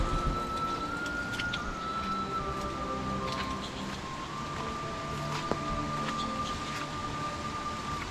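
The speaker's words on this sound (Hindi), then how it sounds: "हल्की हल्की ना फुहार वाली जो बारिश है वो हो रही है यहाँ पे" Light drizzle falling steadily in the Uttarakhand hills during the rainy season, a soft continuous patter with a faint tonal whine running through it, moderately quiet and even throughout.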